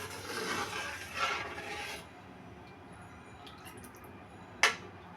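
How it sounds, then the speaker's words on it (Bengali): Broth poured into a potato curry for Bogura-style aloo ghati makes a soft, steady splashing rush for about two seconds. Then quiet kitchen ambience follows, broken by one sharp click near the end. "এই যে ঝোল কি পরিমাণ দিলাম দেখেন"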